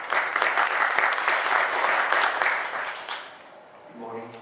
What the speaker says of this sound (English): Please give a welcoming applause to Mr. Se, please.